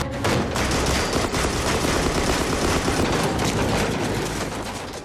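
Intense gunfire and fighting from an action movie, a loud continuous fusillade of overlapping shots and bursts filling the whole stretch with no talk.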